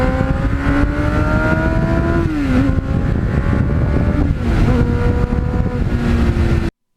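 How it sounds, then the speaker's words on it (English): A green Kawasaki Ninja motorcycle, decades old, accelerating hard at wide-open throttle through the gears, its loud engine whine rising steadily and dropping briefly at each of two shifts before climbing again, then cutting off abruptly. "When you got the road open in front of you and you can just hold the throttle wide open and go through the gears"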